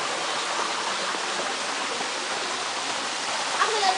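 A brook at Mair Park runs as a steady, close broadband rush of flowing water, even and continuous throughout with a slight swell near the end.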